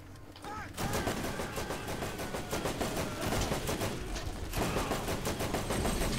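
Sustained gunfire in the Borderlands video game, rapid machine-gun bursts firing almost continuously for several seconds, dense and loud with a brief slackening midway before the shooting resumes.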